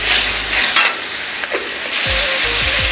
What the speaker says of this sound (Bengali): মশলা সুন্দর করে ভুনা হলে ভাজা হলে তারপরে কষানো আর কি।